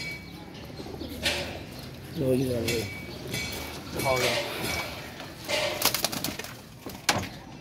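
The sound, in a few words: pigeons cooing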